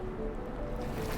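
Cruise ship engine propellers churn the sea near a floating iceberg off Juneau, Alaska, a steady low rumbling wash of turbulent water that builds slightly toward the end, with no talk.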